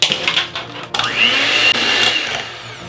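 Eggs being beaten into galette des rois batter with an electric mixer, a steady whirring motor hum that shifts pitch as the blades work the mixture, heard close up with no talking.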